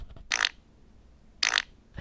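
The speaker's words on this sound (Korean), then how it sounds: "빠른방귀" A fast fart sound effect plays from a phone app: two brief, sputtering bursts about a second apart, with a third starting at the end, over near silence.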